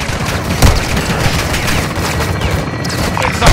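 Machine gun firing from a tower in Call of Duty Modern Warfare 2, dense bursts of gunfire and booming impacts, loud and continuous throughout.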